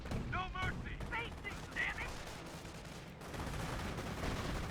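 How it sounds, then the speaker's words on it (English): Battle gunfire in the Company of Heroes 1 strategy game, with dense rattling rifle and machine-gun fire rolling continuously at moderate loudness and a brief voice-like call early on. "Heavy enemy fire on our position!"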